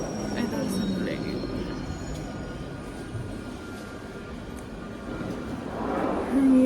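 A train at a UK railway station gives off a low, steady rumble with faint tonal whines, moderately loud and close, swelling near the end, with indistinct voices mixed in.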